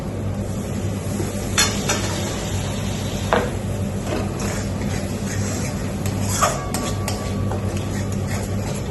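Prawn malai curry with coconut milk bubbling and cooking, a steady close simmer and low hum under repeated spoon scrapes and metallic clinks against the pot.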